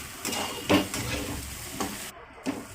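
Sabudana khichdi roasting in a pan: a close, soft sizzle broken by a few scraping stirs of a spoon against the pan, with no voices.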